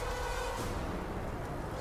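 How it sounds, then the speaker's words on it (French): Flies buzzing as they swarm out of a body in a French-language action video game, a steady close insect drone that continues throughout with no talk. "Pourquoi il y a des mouches qui sortent de son corps"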